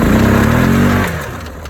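A 2003 Yamaha Grizzly 660 ATV engine revving hard in reverse with the rev limiter override removed, a loud close droning roar held steady before dropping off sharply toward idle.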